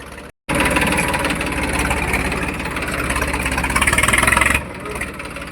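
A New Holland 3032 tractor with a 14-disc harrow attached idles in a farm field, a steady close mechanical chugging with low rumble that briefly rises near the end before dropping back to a quieter idle.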